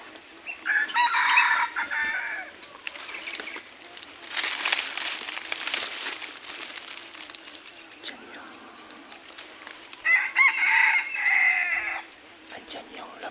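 Red junglefowl (labuyo) crowing in a hunting area. Two clear crows come about nine seconds apart, with a burst of broadband rustle between them. The birds are fairly near and heard without talking.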